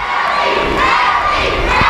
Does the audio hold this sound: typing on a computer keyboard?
no